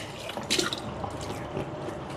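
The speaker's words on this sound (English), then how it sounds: "So let me rinse it again," Water runs and splashes while a Delta Press coffee maker part is rinsed at a sink, a close, continuous trickle with a brief louder splash near the start and soft drips after, no talking.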